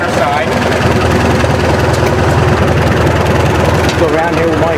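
A 1943 generator set engine rated at 900 RPM runs with a dense, steady, chugging mechanical roar close by as it is brought up toward rated speed at an engine show.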